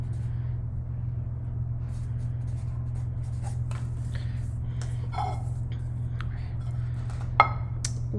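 Pen or marker writing on paper at a kitchen table for a graham cracker tectonic plate activity, faint scratchy strokes over a steady low hum, with one sharp tap near the end.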